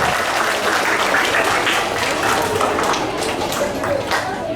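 Steady, loud applause from a school audience fills a Hindi recitation competition hall, sustained clapping throughout with no break.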